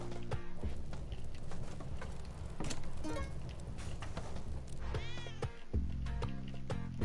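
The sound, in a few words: cat meowing in Spelunky 2 video game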